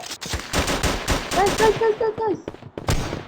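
Rapid automatic gunfire from a video game shooter rattles in loud, close bursts, with brief pauses, while a voice talks over the shooting.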